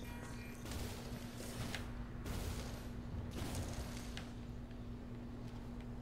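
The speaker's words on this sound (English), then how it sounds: "I hear the gunfire" Bursts of automatic gunfire from the video game Titanfall 2 rattle in several separate volleys with short gaps between them, at moderate distance and with no talking.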